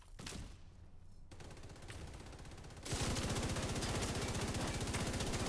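Rapid automatic gunfire in The Division 2 raid on PS4, sustained bursts of dense repeating shots that grow louder and heavier partway through, with no talk.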